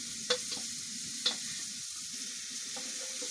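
A chapati roll filling with onions fries on high heat while a wooden stick stirs it, giving a soft continuous sizzle broken by a few sharp scraping knocks.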